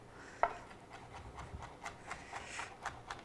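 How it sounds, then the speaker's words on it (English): A knife finely minces garlic on a cutting board, making quiet, steady tapping and scraping strokes at a brisk, fairly even rhythm, close by and soft. "mincing just like this. And you just want it really pretty finely minced"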